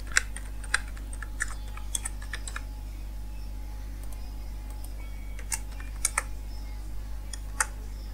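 A phone number being typed on a computer keyboard, sparse, irregular key clicks in short bursts over a steady low hum, close and fairly quiet, with no talk.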